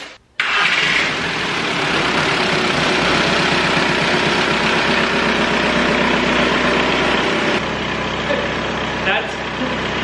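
An MK4 Volkswagen Jetta TDI wagon diesel cranks briefly and fires up, then settles into a steady, loud, close idle that runs unbroken to the end.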